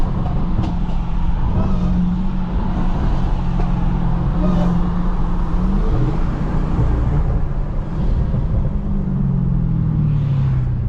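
Cars, including a Dodge SRT Hellcat and a BMW M340i, rumble and drone steadily on a road, loud and close, with engine tones rising and falling as vehicles pass.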